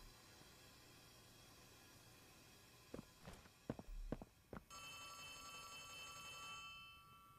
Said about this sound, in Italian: Mi sta squillando il telefono.